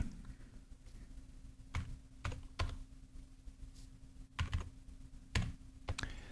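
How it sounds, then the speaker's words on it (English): Keystrokes on a computer keyboard while entering chords into Band-in-a-Box music software, heard as scattered clusters of close, crisp taps over a low steady hum, with no talking. "we'll place the highlight cell there with the mouse and type in the chords we want"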